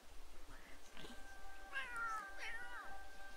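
A cat in The Sims video game gives two or three drawn-out, rising and falling meows in quick succession, clear and fairly close over quiet game background, with no talking.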